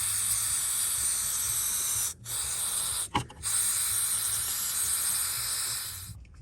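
Aerosol cans of WD-40 and throttle body cleaner spraying onto a Toyota Highlander hood latch, a loud steady hiss that runs almost without break, cut by two short pauses between bursts.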